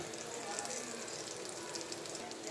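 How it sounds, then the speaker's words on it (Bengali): Spice masala with green chilli frying in a pan for mustard hilsa, a soft, steady sizzle and crackle that stays low and even, with a voice faintly present underneath. "ভালো করে কষিয়ে কষিয়ে ফ্রাই করে নেব"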